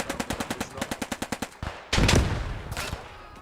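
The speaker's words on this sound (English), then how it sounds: "The German infantry returning fire here." German infantry gunfire in the World War II shooter game Post Scriptum: a rapid, evenly spaced burst of automatic fire, then a louder, heavier blast that trails off in echoing rumble.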